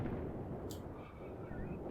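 Mortar high-explosive shells rumble and boom in the distance in Graviteam Tactics, a dense, low continuous thunder of artillery with one sharp burst partway through.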